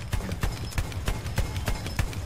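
Rapid, rhythmic hoofbeats of a galloping horse in Battlefield 1 beta, close and steady, with a faint background hum.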